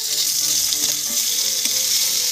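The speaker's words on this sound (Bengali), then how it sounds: "এবার এর মধ্যে দিয়ে নেব ইলিশ মাছের মুড়োর টুকরো।" Halved hilsa fish head pieces frying in hot mustard oil in a pan, making a close, steady, dense sizzle and bubbling crackle throughout the short stretch.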